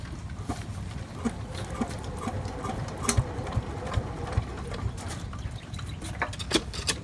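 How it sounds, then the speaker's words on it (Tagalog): A motor runs steadily with a low, chugging rumble and occasional sharp clicks, close by and continuous throughout. "papaanda rin na po yung makina"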